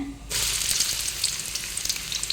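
Chopped onion dropped into hot ghee for a chicken ghee roast, breaking into a sudden loud, continuous sizzle that stays steady with small crackles.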